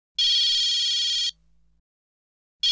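A telephone bell rings loudly in one long electronic burst lasting about a second, then goes quiet before a second ring starts at the very end. No one speaks.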